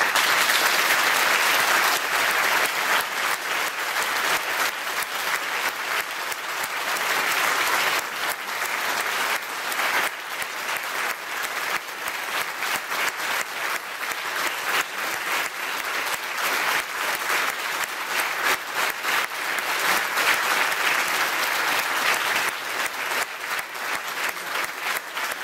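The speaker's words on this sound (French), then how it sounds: "Applaudissez bien fort." A theatre audience at a standing reading performance gives long, steady applause for Jean-Michel, a dense, even roar of clapping that continues loudly without pause for the whole stretch.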